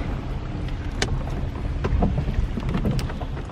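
Heavy rain drums steadily on a vehicle roof at a Victorian garden cemetery, a dense close patter with scattered sharper drips, with no voices.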